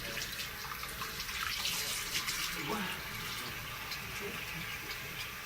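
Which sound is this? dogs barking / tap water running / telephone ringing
tap water running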